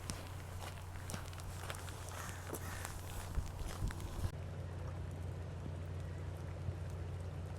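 Footsteps tread through rain outdoors, soft irregular steps under a constant patter of falling rain, fairly quiet overall, with the rain hiss thinning partway through.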